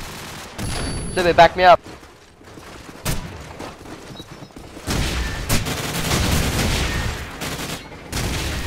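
Call of Duty 4 match with AK-74 rifle fire: a few loud isolated shots and sharp cracks, then sustained distant gunfire and explosions rumbling underneath, while a player speaks briefly over it.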